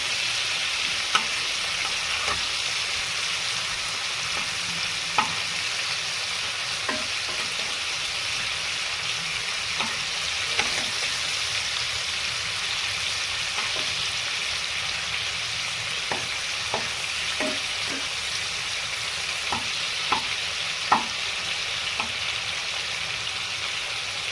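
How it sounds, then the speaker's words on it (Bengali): Prawns fry in hot oil in a pan with a steady, loud sizzle throughout, dotted with scattered sharp pops and crackles. "চিংড়ি মাছটা তিরিশ সেকেন্ডের বেশি ভাজবো না"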